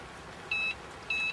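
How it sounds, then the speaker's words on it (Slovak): Two short electronic beeps from a Tempomat AP900C cruise control unit during setup, each a clean steady tone lasting about a fifth of a second, spaced roughly half a second apart over a faint background hiss. "2 krátke pípnutia znamenajú krok 2 nadstavenia plynového pedálu"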